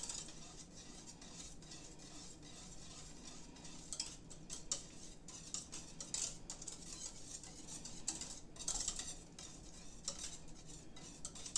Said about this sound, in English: Give that a stir until it melts